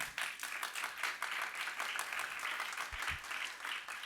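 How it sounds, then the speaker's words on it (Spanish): A church congregation claps for the Lord in a sustained burst of dense applause that fills the room, steady and fairly loud for the whole stretch, with no talking over it. "¿Cuántos le dan palmas al Señor?"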